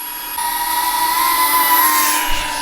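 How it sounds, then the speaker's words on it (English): Steady high-pitched propeller whir from a small GEPRC Crown HD cinewhoop drone, loud and close, holding constant with a faint buzzing whine like a vacuum cleaner and no voices. "There's that vacuum cleaner sound I mentioned."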